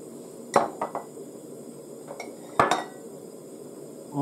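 Minced carrots, onions and broccoli dropped into a metal strainer, a few sharp clinks and clattering knocks of utensils against the mesh, separated by quiet pauses.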